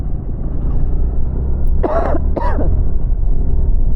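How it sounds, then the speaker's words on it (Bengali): Two short, harsh coughs come in quick succession over a steady low rumble of wind or traffic. "প্রচণ্ড পরিমাণে কাশি হচ্ছে।"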